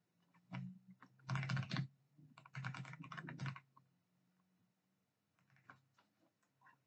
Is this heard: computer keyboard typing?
yes